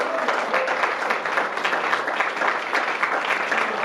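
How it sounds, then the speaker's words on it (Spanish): A church congregation at a Spanish-language service claps together in a steady, full round of applause that holds at an even level throughout. "Denle una ofrenda de palmas al Señor"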